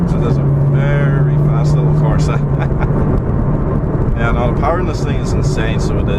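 A 2015 Opel Corsa OPC engine builds revs as the small hot hatch accelerates along a bypass, a steady loud drone from inside the cabin with someone talking over it.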